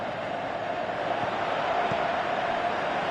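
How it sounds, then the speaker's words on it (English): Stadium crowd in a PS4 football match, a steady massed roar with a faint chant-like swell, continuous and moderately loud throughout. "you can feel and hear how the crowd are reacting to all of this."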